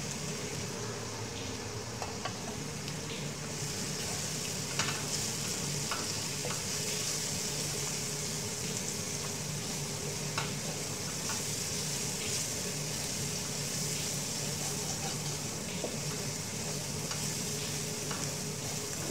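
Spices sautéing in a pan for an okra chicken curry, a steady soft sizzle with occasional stirring scrapes and taps, close and fairly quiet, with no talk.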